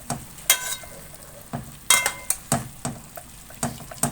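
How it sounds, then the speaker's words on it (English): Chicken thighs with tomato sauce stirred in a sizzling pan, a run of close scraping and clinking strokes at an uneven rhythm over a soft frying hiss, no voices. "I will stir all the ingredients together."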